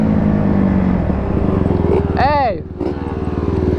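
A Yamaha YZ250 two-stroke dirt bike runs steadily and loud throughout, its engine drone dipping briefly near the end, while a voice shouts once over it.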